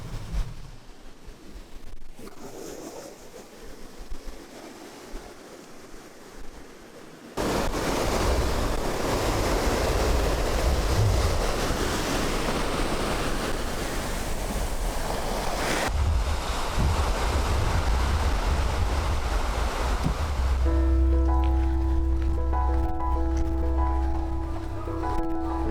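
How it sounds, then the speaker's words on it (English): Surf at Zoni Beach on Culebra, a sea turtle nesting beach, rolls in as a continuous loud roar of breaking waves mixed with gusty wind buffeting the microphone, quieter at first before the full crash takes over. "The first beach we went to is Zoni Beach"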